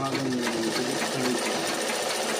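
A sewing machine runs a steady, continuous stitching whir close by, a dense mechanical hum with a faint tonal whine, while someone speaks over it.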